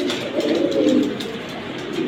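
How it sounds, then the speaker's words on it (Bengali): A pair of pigeons in a loft gives low, throbbing coos close by, one sustained rolling call swelling in the middle before easing off, without any voices. "এটা কিন্তু অনেক সুন্দর এক জোড়া কবুতর।"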